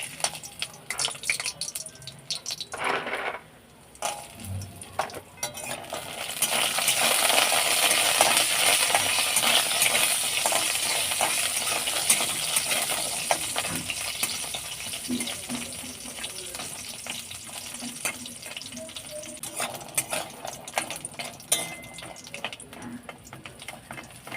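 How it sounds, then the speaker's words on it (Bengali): Lentil dumplings of bori, made with pumpkin, fry in mustard oil in a wok over low flame, a steady hiss and crackle running through most of the stretch with scattered clinks. "লো ফ্লেমে লাল লাল করে বড়ি ভেজে নিয়েছি ভাজা হয়ে গেছে তুলে নেব"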